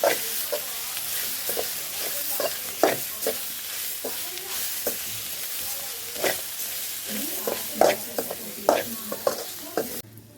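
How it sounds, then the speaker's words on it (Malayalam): Ivy gourd fried in oil in a pan with chili powder, stirred with repeated scraping strokes over a continuous crackling sizzle, close and moderately loud. "സാധാ മുളക് പൊടിയും പൊടി ഒന്ന് മിക്സ് ചെയ്ത് കൊടുക്കാം"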